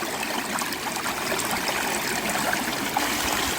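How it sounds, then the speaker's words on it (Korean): A natural stream flows and trickles nearby at a riverside spot where someone is hunting for stones, a close, continuous watery babble with no voices. "아, 물소리도 좋고"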